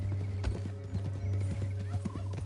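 Horse hooves in Red Dead Redemption 2 clop at a steady walking rhythm over a constant low hum, moderately loud and near, with no talk in between.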